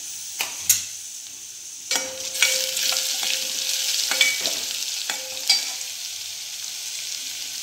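Cumin, mustard seeds and garlic frying in a pan, a steady soft sizzle broken by a few sharp ticks and stirring clicks, close and alone without talk.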